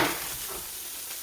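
Steak sizzles and fries steadily in a hot pan for a homemade Salisbury steak, a continuous close broadband hiss with faint stirring, no voices.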